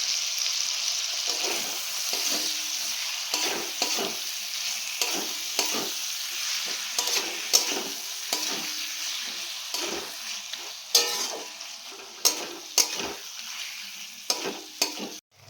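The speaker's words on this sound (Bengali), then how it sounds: "আর এগুলোকে দিয়েও একটু নুন দিয়ে ভালো করে ভেজে নেবো, যাতে টমেটোগুলো গলে যায়" Chopped tomatoes with salt frying in a pan for a chicken dish, a strong steady sizzle punctuated by regular spatula scrapes and stirring knocks throughout.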